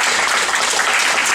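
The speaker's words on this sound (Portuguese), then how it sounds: "seu Henrique, palmas para ele" Applause from a gathered audience as a man named Henrique is called up to the front, a dense, steady wash of clapping throughout with no other sounds standing out.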